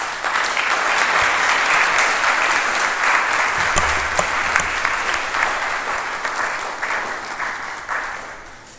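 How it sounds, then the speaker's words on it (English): Sustained audience applause for a chairperson at a public forum of the Ghana Academy of Arts and Sciences, a steady dense roar of many hands that holds loud for the whole stretch and tapers slightly toward the end. "Ladies and gentlemen, a round of applause for our chairperson."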